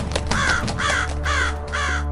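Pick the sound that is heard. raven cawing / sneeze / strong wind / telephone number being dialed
raven cawing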